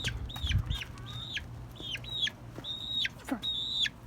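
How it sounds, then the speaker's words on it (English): Backyard chickens cluck and call in short repeated bursts, fairly close, over a low background hum with no one speaking. "So yeah, we have more chickens."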